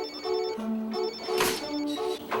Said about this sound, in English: Oh, could that be Tombstone's phone